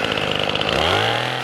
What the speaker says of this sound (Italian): motosega